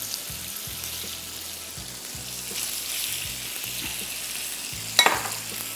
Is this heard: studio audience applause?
no